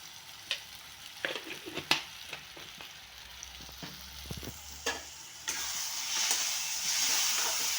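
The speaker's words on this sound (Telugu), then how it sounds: "ఆయిల్లో పసుపు వేసుకుంటే ఎంత మంచిగా ఉన్న స్మెల్ సూపర్ వచ్చును కదా" Hot oil sizzles and crackles as turmeric is added to a pan for an egg curry, with scattered clinks of a stirring spoon, then the frying swells into a louder, steady hiss near the end.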